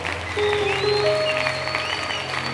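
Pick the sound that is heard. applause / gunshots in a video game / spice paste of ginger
applause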